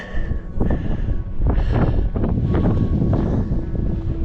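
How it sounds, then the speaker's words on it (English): Strong wind roars steadily across the microphone on the motorcycle ascent of Mt Blue Sky, a Colorado 14er summit, loud and gusting throughout with no talk. "I'm shivering from the wind coming up here, and yeah, it's blasting."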